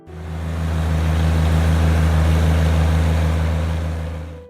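A 1960s Oliver 1650 farm tractor of about 66 horsepower idles steadily up close, a loud, even low engine drone with no break throughout.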